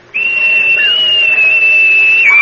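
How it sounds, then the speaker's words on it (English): A single shrill whistle blast on a ship holds steady and loud for about two seconds, calling the crew up from below deck, then dips slightly at the end. "I'll whistle them up for you."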